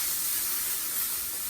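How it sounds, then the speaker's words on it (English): Steady, bright sizzling of steak searing in a hot pan, close and continuous with no talking. "Hear that? Hear the sizzle?"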